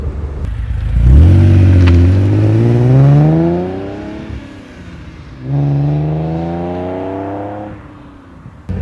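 A 1971 Fiat Dino 2400 Spider with a Ferrari-derived engine revs up hard through the gears, a loud close engine rising in pitch twice with a gear change between pulls.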